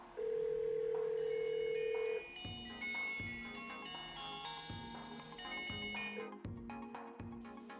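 A phone call ringing through an $80 Apple Watch clone smartwatch: a sustained tone, then repeated short electronic chime notes in a steady pattern, fairly clear with no talking.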